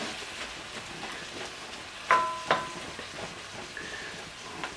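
Zucchini, ginger and garlic sizzle steadily in a hot stir-fry pan, a dense crackling hiss punctuated by a couple of sharp utensil clinks against the pan.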